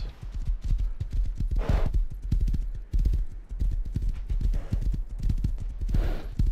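Steady clip-clop of horse hooves trotting at an even rhythm in the game Rust, close and loud, continuing throughout with a faint occasional noise above.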